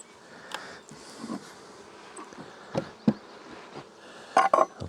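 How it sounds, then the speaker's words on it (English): Bees buzz around an open beehive while frames are handled during nuc making, a steady dense drone close by, with occasional knocks and frame clatter over it and no voices. "There's lots of bees."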